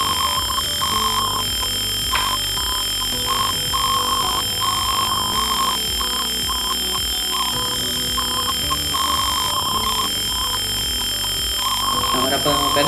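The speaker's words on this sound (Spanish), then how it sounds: "el sensor de movimiento acaba de detectar y activa la alarma" A motion sensor alarm buzzer beeps in a repeating pattern of short, high tones, steady and fairly loud against a constant background hum.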